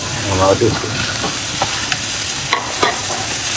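Tomatoes tossed into a hot pan of sautéing vegetables for a mung bean dish, a steady close sizzle and frying hiss with occasional scraping stirs and clacks of a utensil against the pan.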